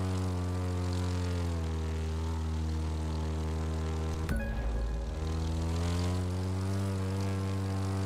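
A propeller airplane engine from the racing game The Crew 2 drones steadily and loudly throughout. A brief clunk comes about halfway, and the engine's pitch shifts slightly afterward.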